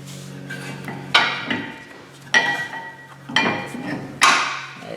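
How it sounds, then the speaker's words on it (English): A brake pad retaining spring is pried out of the front caliper of a BMW E46 330i, giving four sharp metallic clinks and clanks spaced about a second apart, close by and with no talking. "The back one's held by a spring. We'll pop that out."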